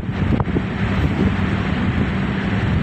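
Rushing wind roars over a microphone on a fast motorcycle ride through the Pangasinan countryside, a loud, steady buffeting that fills the whole stretch with no one speaking.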